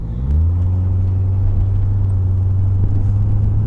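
A C4 Corvette with an automatic transmission driving off, its engine rising in pitch briefly and then dropping after an early upshift into a steady, loud, close drone, with no talk.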